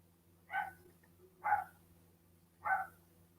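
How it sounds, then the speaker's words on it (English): A dog in a neighbouring apartment gives three muffled, fairly faint barks spaced about a second apart, heard through the wall over a low indoor hum. "that's a dog in someone else's apartment"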